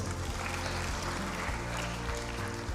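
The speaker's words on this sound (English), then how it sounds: "But please, a round of applause." Audience at an opening ceremony applauds in a steady, dense patter of clapping that fills the hall for a few seconds without letup.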